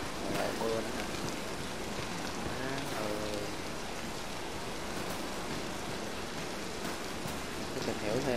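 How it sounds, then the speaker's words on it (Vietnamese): Rain falling in the survival game Stay Out, a steady dense patter of drops without pause, with faint sounds in the background. "Lại mưa nữa nè."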